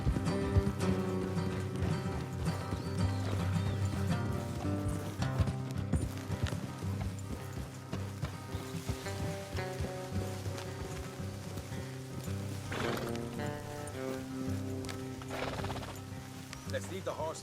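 Horses trotting in the video game Red Dead Redemption 2, hooves clip-clopping in a quick, steady rhythm on the road, fairly faint, with game music and ambience running underneath throughout.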